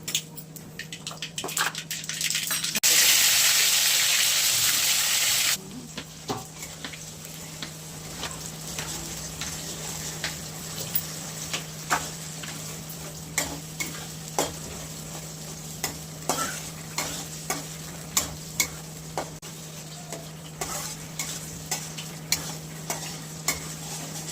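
Bay leaf, cumin and mustard seeds tempering in hot oil for a spicy dry soybean curry, with a loud hiss as they hit the oil, then steady sizzling dotted with sharp crackles and pops, no talking.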